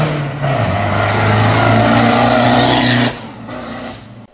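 Ford Transit van with a stage 3 remap and custom exhaust revving hard, a loud, close, raspy engine roar that climbs and holds for a few seconds, then drops off and settles into a rumbling idle, with no talking.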